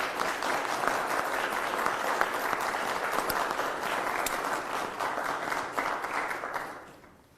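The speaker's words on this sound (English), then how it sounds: "All right, let's give him a round of applause for that one." A roomful of people applauds steadily after Missouri Governor Parson signs a tax-cut bill. The dense clapping holds at an even level, then tapers off quickly at the end.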